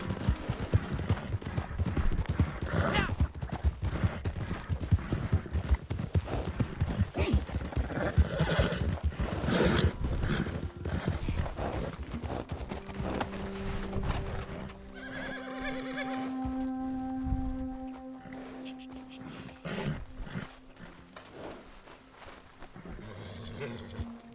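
A horse in Red Dead Redemption 2 gallops with rapid, continuous hoofbeats, then gives a loud, drawn-out whinny as the pounding eases into quieter game sounds.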